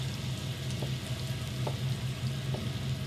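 Thin strips of meat sizzle steadily in a hot pan with oil and butter for fajitas, a continuous dense crackle with soft pops and a low hum beneath, close and even throughout.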